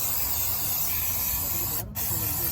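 Brake cleaner hisses from an aerosol can onto a Hyundai engine during servicing, a close, steady spray with a momentary break near the end.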